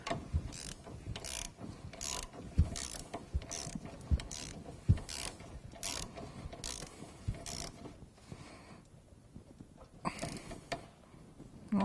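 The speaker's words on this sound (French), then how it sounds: "Et je le serrai avec le cliquet." A ratchet tightens the oil filter on a Fiat 500 during an oil change, giving a series of sharp, close clicking strokes in a regular rhythm before going quiet near the end.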